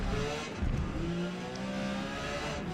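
A Porsche 956 race car in Forza Motorsport, racing at Homestead Miami, runs with its left tires on the grass, its engine holding a steady, loud drone with a few shifting tonal sweeps and rumbly jostling underneath.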